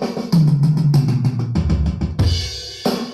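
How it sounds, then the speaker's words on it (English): A normal drum roll without triplets played within a drum beat, with loud, evenly spaced hits in a clear rhythm, close and alone. "a normal drum roll without triplets goes like this"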